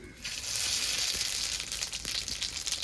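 Dried red chilli and radhuni seeds hit hot oil as a tempering, giving a steady, loud, close sizzle with crackly hiss that holds throughout, with no talk.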